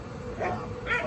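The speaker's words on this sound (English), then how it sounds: "So it's a new puppy." A new puppy named Dano gives two short, fairly close yips in a backyard, each a brief burst standing out over low background noise.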